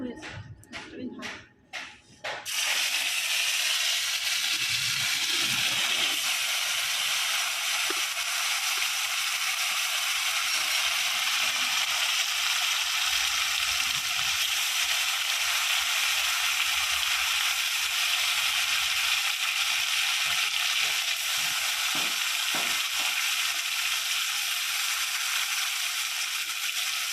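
Marinated snakehead fish pieces drop into hot oil, setting off a sudden loud sizzle after a couple of seconds that holds as a dense, even hiss to the end.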